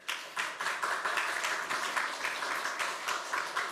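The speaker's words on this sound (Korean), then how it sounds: "이분들 잘 감당할 수 있도록 격려의 박수를 부탁을 드립니다." A church congregation at a Korean Sunday worship service gives a quiet, somewhat distant round of applause, with individual hand claps audible in the steady patter.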